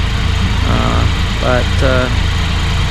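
A Can-Am Spider's engine idles with a steady low rumble and vibration, close by, while someone talks over it.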